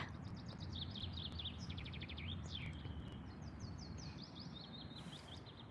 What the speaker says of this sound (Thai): เสียงนกค่ะ